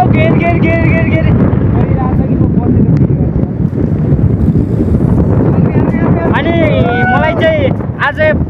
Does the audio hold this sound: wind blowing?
yes